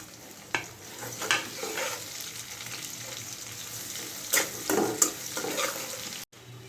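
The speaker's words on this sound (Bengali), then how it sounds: "রসুন কুচি একটু ভেজে তার মধ্যে পেঁয়াজ কুচি" Chopped garlic and onion fry in oil for a potato curry, giving a soft continuous sizzle punctuated by spatula stirs and scrapes against the pan.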